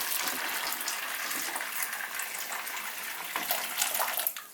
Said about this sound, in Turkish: üzerine de yaklaşık 1 litre su döküyorum. Sıcak su bu arada.